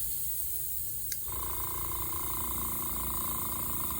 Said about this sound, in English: the compressor kicks back in to fill up this tank with air